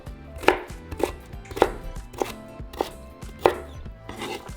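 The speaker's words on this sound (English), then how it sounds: "I'd rather cut them and have them in small cubes" A knife chops apples into small cubes on a cutting board, six or seven sharp, evenly spaced taps about half a second apart, close and clear with no voices.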